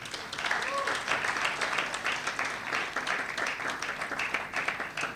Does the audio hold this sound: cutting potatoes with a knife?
no